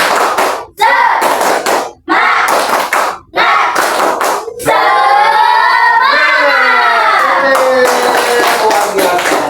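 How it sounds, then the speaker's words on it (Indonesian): Students repeat the 'tepuk semangat' classroom ice-breaker, clapping in short rhythmic clusters separated by brief gaps, then a long closing passage of loud group chanting over the claps. "Sekali lagi, tepuk semangat."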